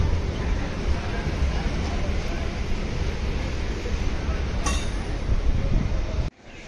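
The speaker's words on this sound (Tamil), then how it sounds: "நம்ம வந்த ட்ரெயினும் கிளம்பிருச்சு," A MEMU express train pulling away from a small Andhra village station, a steady heavy rumble of rolling wheels with a brief metallic squeal partway through, cutting off abruptly near the end.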